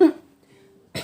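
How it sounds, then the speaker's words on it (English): A single short cough bursts out up close, followed by a brief quiet tone and a second rough cough at the end, from someone doing cross-stitch indoors. "And I'm coughing already."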